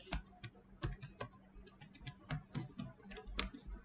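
Someone types a username and password on a computer keyboard, producing quiet, close key clicks in quick irregular bursts with a soft low hum underneath.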